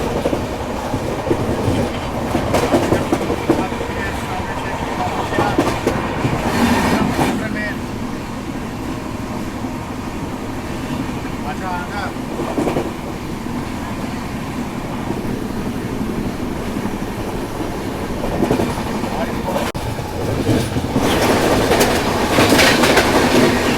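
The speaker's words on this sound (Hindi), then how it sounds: "अभी सामने से आ रही है ब्रह्मपुत्र मेल" The Brahmaputra Mail rushes past alongside a moving Duronto Express, a loud sustained roar of wheels and carriages with rhythmic clatter and bursts of wind noise, heard from onboard throughout.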